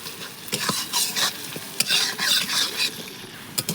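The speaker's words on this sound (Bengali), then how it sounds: "এবার ভালোভাবে একটু ভাজা করে নেব, যাতে রসুনের গন্ধ আদার গন্ধটা চলে যায়" Ginger and garlic paste fries in a pan, the loud sizzle swelling and fading in bursts as a spatula stirs and scrapes, with a few sharp metallic taps.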